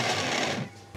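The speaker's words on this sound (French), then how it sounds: "On va mixer ça va faire du bruit." A kitchen blender blending beetroot gives a loud, dense motor whir that drops off sharply after about half a second, followed by a brief clatter, heard close up with no talking.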